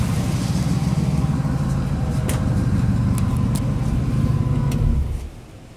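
A 1956 Studebaker Transtar truck's 259 V8 fitted with Fitech fuel injection runs steadily at a fast idle, a close, continuous low rumble that drops away abruptly near the end.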